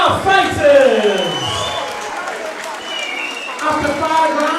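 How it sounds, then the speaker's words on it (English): A crowd at a pro hybrid boxing league bout cheers and applauds both fighters, loud whoops and clapping rising and falling under a ring announcer's amplified voice. "Ladies and gentlemen, can we please have a big round of applause for both of our fighters?"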